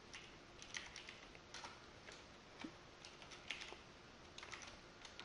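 Typing on a computer keyboard while setting up a TestNG WebDriver test, with quiet, irregular clicks and short bursts of keystrokes spread across the whole stretch and no talk.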